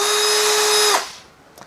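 A cordless drill with a variable speed trigger runs at a high, steady whine for about a second, then abruptly winds down and stops, leaving near silence with a faint click.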